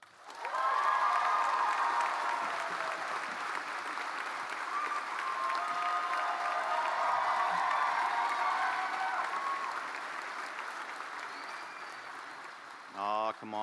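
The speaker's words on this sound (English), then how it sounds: "thank you everyone who clapped" Sustained applause from a law school commencement audience greeting the student speaker, loud and steady for over ten seconds before tapering off, with a few cheers mixed in.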